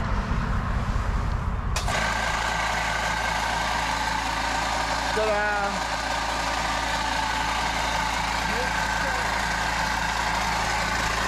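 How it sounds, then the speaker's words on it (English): An air compressor switches on abruptly and then runs in a steady, loud mechanical drone off an off-grid power setup, continuing without a break to the end. "today we're going to test out the air compressor"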